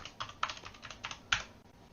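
Fingers typing a terminal command on a computer keyboard, about eight crisp, close keystrokes at an uneven pace, ending on one firmer key press, with no talking.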